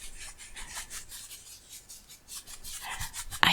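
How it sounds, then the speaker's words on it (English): Fingertips fluttering rapidly over haul items bought in Berlin, producing soft, close, continuous rustling and scratchy tapping in quick irregular bursts, quiet and intimate, ending with a slightly louder tap. "And I can do some finger flutters."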